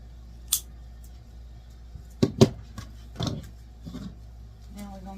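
Scissors snip ribbon for a fall wreath swag in a few separate crisp cuts, close and fairly quiet, with soft handling rustles between them.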